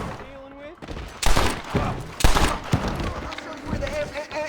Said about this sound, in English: I'm shooting something.